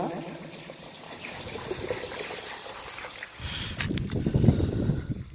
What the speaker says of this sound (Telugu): ఈ వాటర్ సౌండ్ అనేది చూడండి బాగా వినండి